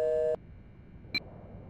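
A phone tone from the video game Silent Hill: Shattered Memories after a number is dialed. A steady multi-tone sounds for a third of a second, then a short, thin electronic beep follows over faint background hiss.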